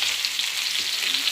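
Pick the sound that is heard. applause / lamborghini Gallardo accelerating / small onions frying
small onions frying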